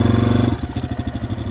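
A motorcycle engine revs with a throbbing, pulsing beat, then settles into a lower chugging rhythm as it pulls off, close and fairly loud.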